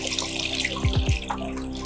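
Raw plaster is put into water, making a short burst of three quick splashes in a row over a faint running-water background.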